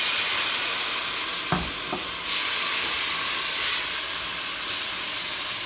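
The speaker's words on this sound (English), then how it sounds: "So we're gonna add some white wine." White wine poured into a pan of mushroom risotto hisses and sizzles steadily, with a short clatter of stirring near the start, close and fairly loud throughout.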